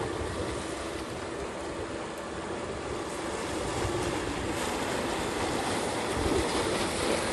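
Strong incoming current with waves breaking on rocks, a broad continuous wash of surf that swells slightly toward the end, with no voices.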